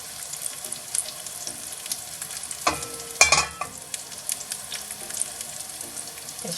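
Oil heats in a big pan over a high gas flame, giving a steady low sizzle with a couple of sharper clatters partway through.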